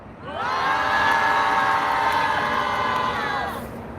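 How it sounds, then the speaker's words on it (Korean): A protest crowd of young feminists outside the presidential office raises one loud, sustained roar of many voices, swelling quickly, holding for about three seconds and then fading. "힘찬 함성부터 외치고 가겠습니다. 함성 시작!"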